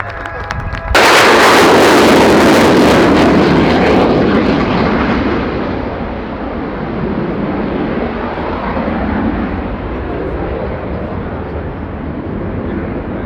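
Military twin-turboprop C-27J Spartan after landing at an air show, its engines roaring loudly and close from a sudden onset, then holding a broad steady rumble that eases slightly, with no talk over it.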